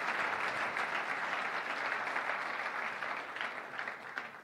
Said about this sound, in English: I think we can applaud you